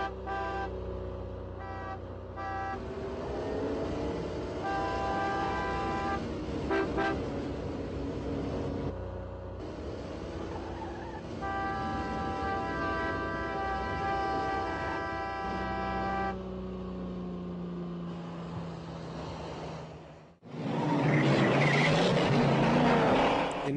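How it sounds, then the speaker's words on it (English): A car chase from the film Goldfinger features a 1964½ Ford Mustang. Engines roar and horns toot over a busy orchestral soundtrack, and a louder, noisier burst comes near the end. "In this clip, we see the 1964 and a half Mustang being chased by James Bond."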